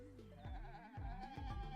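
Sheep from the video game Tomodachi Life bleat repeatedly in a quick, overlapping series of wavering, nasal cries over a steady game backdrop, with no talking.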